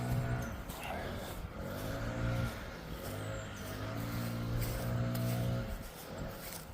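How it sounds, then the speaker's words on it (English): Outdoor motor drone of a leaf blower clearing leaves in a client's yard, a continuous whooshing roar that swells and eases as the engine is throttled, fairly steady and close. "we'll start tidying up this area, getting it nice and clean, blowing these leaves"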